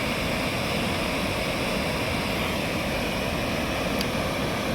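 Floodwater rushing down a river after sixteen dam gates were opened, a dense continuous roar that stays loud and unbroken throughout, with no voices.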